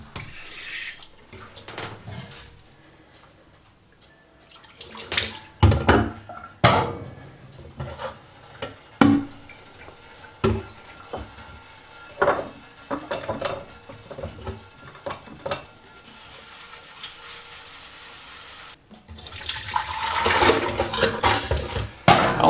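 Dishes being washed one by one in a kitchen sink: running tap water, clinks of plates and utensils, and splashing in irregular bursts, with the stream swelling louder near the end.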